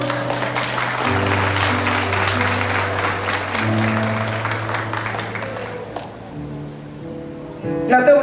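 An audience applauding in a church, a steady wash of clapping carried over sustained keyboard chords that thins out toward the end as the music continues.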